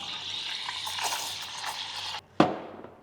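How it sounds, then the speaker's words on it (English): Steamed milk being poured for latte art onto a dirty chai, a close, steady hissing trickle that stops abruptly, followed by a short sharp clink. "And then you can pour your latte art on top."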